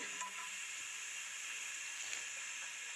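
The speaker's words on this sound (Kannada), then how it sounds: "ಮತ್ತು ಫ್ರೈ ಮಾಡ್ಕೊಳ್ಳಿ" Chillies sizzling in hot oil in a pan for huliyanna, a steady close bright hiss and crackle with faint stirring, no talk.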